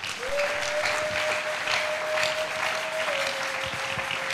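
A congregation applauding during a church service, steady dense clapping throughout with a sustained tone held over it, no talk.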